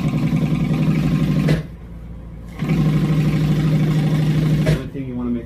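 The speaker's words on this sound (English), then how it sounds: "So now I sew this last skirt piece on here." A sewing machine stitching a leather skirt piece onto a cafe racer motorcycle seat cover, its motor whirring loudly in two sustained runs separated by a brief stop, then winding down at the end.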